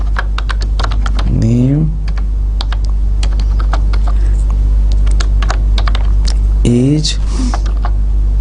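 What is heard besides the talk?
typing C code on a computer keyboard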